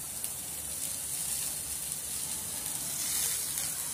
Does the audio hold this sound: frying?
yes